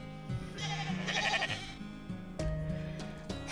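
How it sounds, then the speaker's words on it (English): A flock of sheep bleats in the Fate/Grand Order video game, several overlapping wavering bleats in quick succession over a low musical backdrop. "There is a flock of sheep coming this way."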